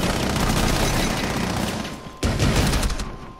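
Heavy video game gunfire, a loud dense fusillade of rapid shots that breaks off briefly, then resumes just as intensely, with no talk over it.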